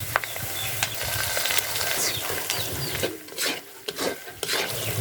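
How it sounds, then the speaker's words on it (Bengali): Ground spice paste fries with browned onion and garlic in a village-style chicken pulao pot, with loud close sizzling broken by scraping stirs of a spatula against the pan and no voices. "এখন আমি বাটা মশলাগুলো এর মধ্যে দিয়ে দেবো"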